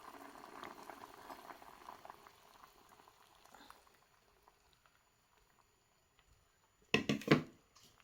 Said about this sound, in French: ma sauce qui est déjà en train de bouillir